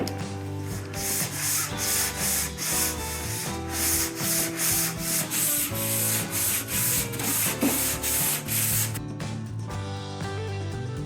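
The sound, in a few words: sanding on a sailboat during prep work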